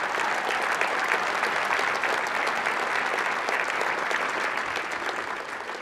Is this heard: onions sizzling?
no